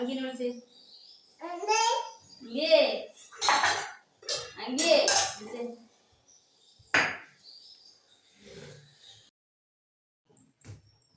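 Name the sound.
dishes and cutlery during a family lunch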